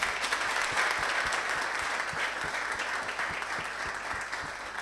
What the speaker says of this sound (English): Come on, a round of applause for yourselves.